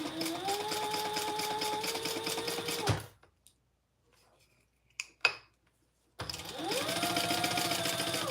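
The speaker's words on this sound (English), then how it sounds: "then we're going to top stitch on this side" A sewing machine top-stitches fabric for a card-slot wallet, its rapid needle whir running in bursts with a quiet pause between them and light clicks during the gap.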